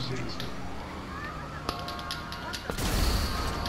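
Gunfire in Grand Theft Auto, a few sharp cracks rising out of dense game noise, with a heavier burst of shots near the end as players talk over the action.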